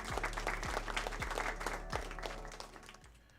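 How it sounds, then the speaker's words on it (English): Polite round of applause for a Yankees pitcher, steady clapping from a small group with a low rhythmic thumping underneath, fading toward the end. "Give him a nice little round of applause."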